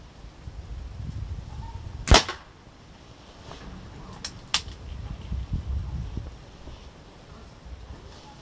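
A Soeger XM1-Sport air rifle fires a pellet outdoors in calm wind, giving one sharp, loud crack, then a fainter snap a couple of seconds later, over low background rumble.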